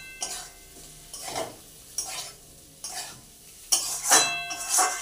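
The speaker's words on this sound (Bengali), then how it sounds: "মশলাটা প্রায় কষানো হয়ে এসছে, দেখুন মশলা থেকে তেলটা ছেড়ে দিচ্ছে" Spice paste (masala) being fried in oil in a pan while a potato and pointed gourd kofta curry is cooked, with gentle sizzling and about five distinct bursts of stirring and scraping against the pan, close and without talk.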